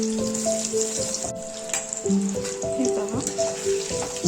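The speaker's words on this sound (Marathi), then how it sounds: "आपण इथे हे पनीर तळून घेऊया, थोडे थोडे टाकून।" Paneer pieces frying a few at a time in hot oil in a pan, a steady sizzle running throughout with soft clinks of utensils, while a voice talks over it at times.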